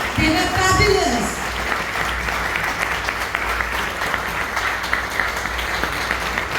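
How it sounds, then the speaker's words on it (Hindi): Business forum audience giving sustained applause for two speakers, a thick continuous clapping wash with brief voices and cheers near the start, steady and fairly loud throughout. "huge round of applause for our both the speakers"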